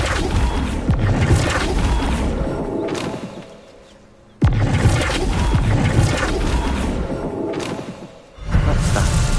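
A Flipendo spell strikes in the Hogwarts Legacy video game, with loud sustained rushing noise broken by two sharp, heavy impacts a few seconds apart, each followed by a swelling roar.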